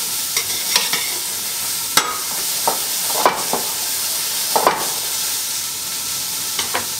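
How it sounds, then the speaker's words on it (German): Vegetables cut to hazelnut size roast over a high flame in a pan while veal ossobuco is being prepared, giving a steady close sizzle broken by occasional scraping stirs. "Jetzt lassen wir das ein bisschen rösten."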